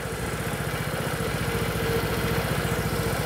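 A Vespa GTS HPE scooter engine idles steadily while its coolant is being flushed, giving a continuous, even, pulsing putter at close range for the whole stretch, with no voices.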